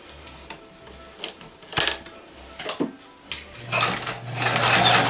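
A vintage Dressmaker sewing machine runs in short mechanical bursts with clacks and rattles, then settles into a louder, continuous stitching whir near the end.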